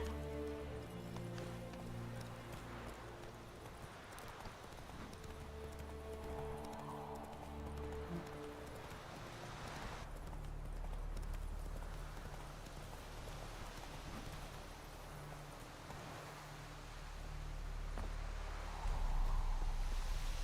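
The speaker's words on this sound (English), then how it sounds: "There's my trusty horse." Horse hooves gallop steadily in The Witcher 3 video game, a continuous rapid clip-clop under a wind-like game ambience with a faint whinny, with no talking.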